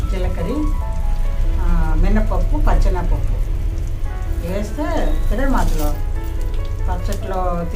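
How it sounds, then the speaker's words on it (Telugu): Mustard seeds, cumin and lentils crackle and sizzle in hot tempering oil, a loud continuous frying hiss with popping bursts, close up, while a voice talks over it. "ఆవాలు, జీలకర్ర, మినపప్పు, పచ్చెనపప్పు వేస్తే తిరగమాతలో"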